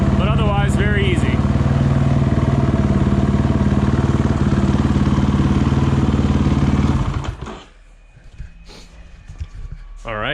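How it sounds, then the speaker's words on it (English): Dirt bike engine fitted with a JD Jetting Power Surge tuner and Euro intake airboot, running loud and steady with raised idle for about seven seconds, then cutting off to quiet with faint rustling. "the idle on the bike came up a lot"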